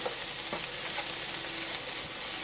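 Vegetables for fried rice are stirred in a hot pan, with a steady close sizzle of frying broken by scraping, clicking strokes of the utensil every half second or so.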